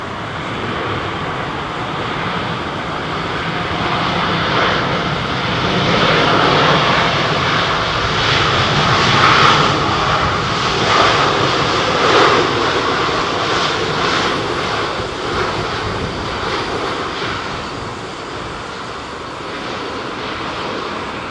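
A British Airways Boeing 777 jet airliner roars at London Heathrow Airport, a loud sustained engine rumble and whine that swells to a peak midway and then eases slightly, with no voices.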